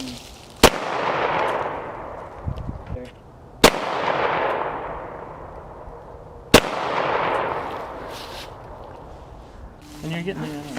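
A pistol fires three loud, sharp shots at even intervals a few seconds apart, each crack followed by a long echoing tail that slowly fades.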